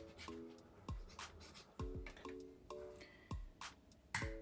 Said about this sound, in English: So first I'll cut them in small equal pieces.